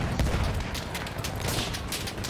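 Dense bursts of gunfire in the first-person shooter Battlefield 1, rapid overlapping shots and booms running continuously, loud and close with no clear talk over them.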